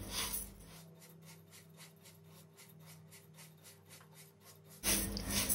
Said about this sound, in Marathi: तांदूळ भाजता आसतना अशें सतत ढवळत रावपाक जाय।